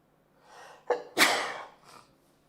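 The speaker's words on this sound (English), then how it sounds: "I'm going to sneeze." One loud close sneeze with a sharp intake of breath just before it, alone in a quiet room during a live darts broadcast.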